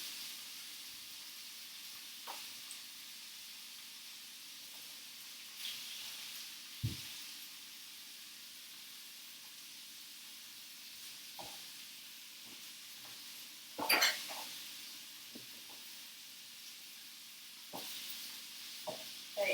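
Stir-fry ingredients cook in coconut oil in a pan, a faint, low hiss with scattered light pops and a few utensil taps, heard quietly with no talking.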